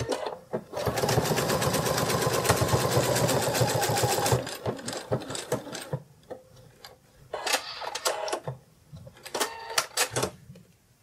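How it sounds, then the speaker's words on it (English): A sewing machine stitches a dart in plush fabric for a sitting kitty toy, running in a steady, loud burst for about four seconds before breaking into short, stop-start spurts of stitching. "you're just going to sew up the dart and sew it in"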